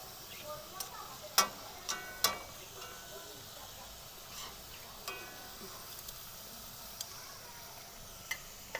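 Potato chips frying in oil, a faint soft sizzle with occasional sharp pops and ticks, heard quietly under a speaking voice.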